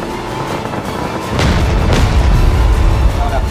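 A C4 blast brings down a three-storey building in a video game, a loud deep boom erupting partway through and rumbling on to the end.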